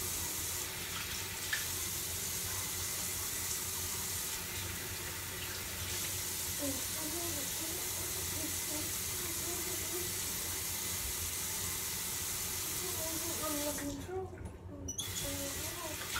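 Tap water runs steadily into a sink to wet hair, a constant broadband hiss that carries on for the whole stretch, with faint voices and movement underneath.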